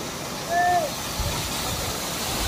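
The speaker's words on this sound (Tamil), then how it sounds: "இப்போ கீழே இறங்கி போய் அந்த மினி வாட்டர் ஃபால்ஸில் குளிக்கலாம்." Mini waterfall at Balamuri Falls near Mysore, heard as a constant loud rush of falling water, with a brief tonal whistle-like sound early on.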